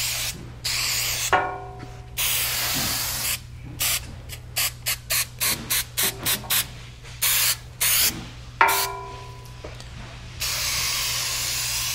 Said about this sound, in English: pull out your adhesive, give it a good shake. Make sure you get good coverage.